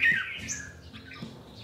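A long-bodied pet songbird on sale gives a sharp squawk followed by a few shorter calls, close and clear over a quiet background with faint clicks.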